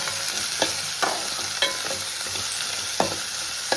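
Prawns sizzle in hot oil while being stirred, giving a constant crackling hiss broken by scraping strokes roughly once a second, with no one speaking.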